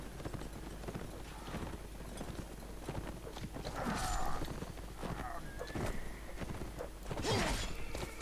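Horse hooves clip-clopping in a Mount & Blade Napoleonic battle, a steady stream of soft hoof beats mixed with game noise, with someone talking over them and louder swells of action around the middle and end.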